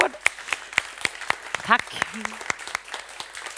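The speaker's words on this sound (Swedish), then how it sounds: "Och nu ska vi en applåd." Sparse, sharp claps ring out at a Swedish conference on regional physical planning, with a few distinct hand claps spaced irregularly while a voice speaks briefly over them.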